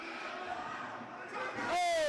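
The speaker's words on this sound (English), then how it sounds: "And the crowd has come alive." Boxing crowd at a live fight between Nelson Birchall and Miguel Zamora swelling into loud cheering, a steady roar that builds toward the end, with a commentator talking over it.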